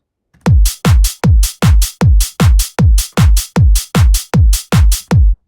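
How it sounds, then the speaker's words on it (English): Trance drum loop with punchy kicks and open hi-hats, a steady run of about thirteen evenly spaced hits, loud and up-front with nothing else beneath. "So the drums sounds like this."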